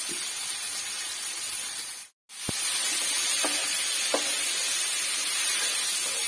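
Boiled jackfruit seeds with turmeric and salt frying in a pan, a dense continuous sizzle close by, briefly dropping out once, with a few light stirring taps.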